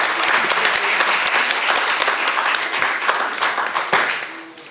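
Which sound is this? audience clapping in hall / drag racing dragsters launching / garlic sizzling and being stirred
audience clapping in hall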